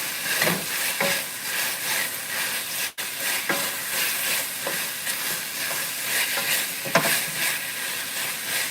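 Shrimp stir-fried in a wok for a broccoli dish, giving a steady, close sizzle of hot oil and a hiss of steam, broken by repeated scraping and tossing strokes. No one speaks.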